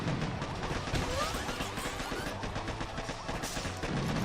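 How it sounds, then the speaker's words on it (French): Gunfire rattles through a video game battle as shots are fired at an enemy, a dense continuous stream of rapid shots and impacts mixed with game noise, with no voices. "tirez-lui dessus maintenant"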